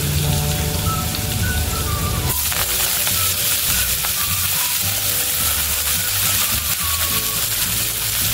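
Fenugreek leaves sizzling in a pan with browned garlic, a dense, loud, rain-like hiss that swells as the leaves hit the oil, steady throughout under faint background music, no speech.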